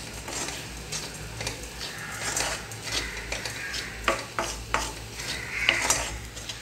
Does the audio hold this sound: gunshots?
no